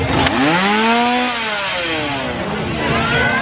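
A chainsaw revs loudly and continuously through its whole length, its pitch sweeping up and down, amid the noisy crowd of a Halloween Horror Nights employee preview at Universal Orlando.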